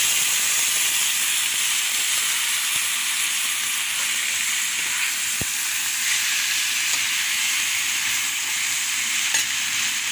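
Tomatoes dropped into a hot pan for a plum chutney, sizzling and hissing steadily for the full stretch with a few faint clicks, fairly loud and with no voices.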